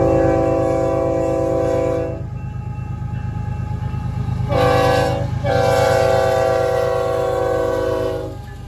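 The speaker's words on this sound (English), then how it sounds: "I saw an intermodal leaving Missouri Valley and heading towards California Junction" An intermodal freight train passes close and loud on the Blair subdivision, its horn sounding in long chords that pause and resume over a constant rumble of rolling cars.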